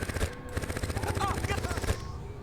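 Rapid gunfire from the video game No One Lives Forever 2, a dense burst of repeated shots under game music and effects, fairly loud and continuous for a couple of seconds.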